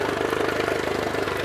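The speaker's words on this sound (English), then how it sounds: "Just let it run for a few minutes and flush all the salt out of the engine" An outboard motor idles steadily while being flushed with fresh water to clear out salt, a close, even mechanical drone with a fast regular pulse and no talk.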